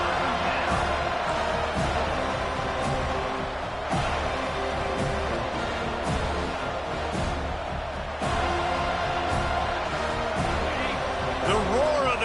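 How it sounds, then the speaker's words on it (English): Stadium crowd roaring steadily in College Football 25 during a college football game against North Carolina, a dense continuous wash of cheering that stays loud throughout with occasional swells, with a commentator talking over it. "The roar of the crowd trying to fuel this defense to keep them pinned in their own end."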